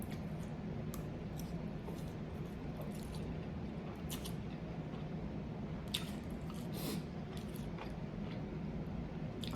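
Quiet, wet chewing and squishing from someone eating spicy Buldak dumplings with rice, fish cake and wheat cake, soft smacking bites continuing steadily up close with no talking.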